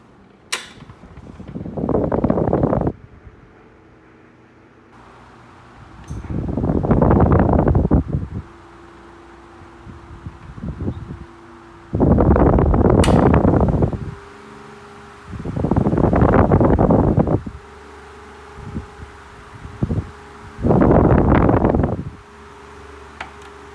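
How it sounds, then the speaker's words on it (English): A Jab oscillating electric fan with a small greased gearbox runs quietly, its soft whoosh swelling and fading in regular waves every few seconds as the head sweeps past. "Once that grease warms up in that little gearbox, it is a very quiet fan,"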